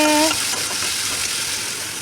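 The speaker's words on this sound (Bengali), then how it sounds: "পেঁয়াজগুলি ভাজা হয়ে আসছে" Onions with turmeric, cumin, chilli, ginger and garlic fry in oil for a fish curry, making a loud, close, continuous sizzle. A brief voice-like tone opens the sound before the hiss takes over.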